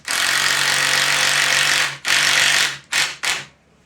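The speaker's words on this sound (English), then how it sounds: "we're going to drill a screw right into the base" A power drill whirs steadily for about two seconds, then gives three shorter bursts as it drives a screw into the base of a poleaxe, loud and close.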